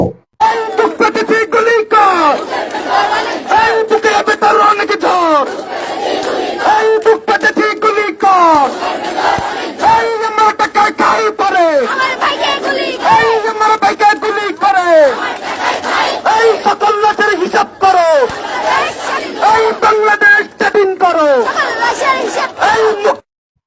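Milestone College students, including a young woman and her friends, chant rhythmic protest slogans in loud call-and-response bursts in front of police and army, an overlapping crowd of voices that keeps going without pause.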